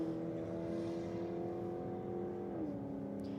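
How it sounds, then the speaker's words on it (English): A VE Commodore drag car, originally manual, rolls out at Sydney Dragway with a steady, loud engine drone that shifts pitch near the end, with no talk over it. "Sammy Joe coming out now in the VE Commodore."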